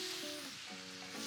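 Paper-thin Philly cheesesteak beef sizzles loudly and steadily in a hot pan, a dense continuous hiss throughout with faint tonal whines in the background.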